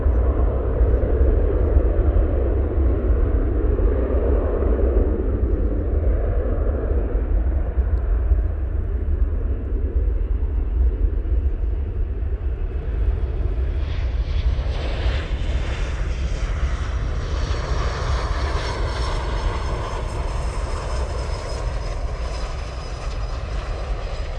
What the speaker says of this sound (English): Embraer Legacy now coming in from Farnborough.